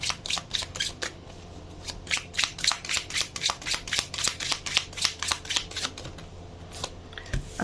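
Slightly slick tarot cards are shuffled in a steady run of crisp riffling flicks, close and fairly quiet, with no talk.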